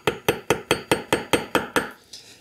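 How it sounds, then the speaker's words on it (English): A hammer drives a wooden dowel into copper tubing with about nine sharp, evenly spaced metallic blows at close range, each ringing briefly before the next, then a short scrape at the end. "drive this in with a hammer"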